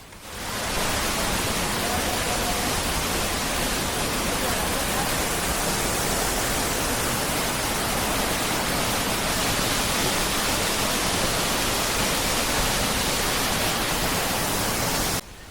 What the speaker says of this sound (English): the sound of water flowing over stones is just relaxing enough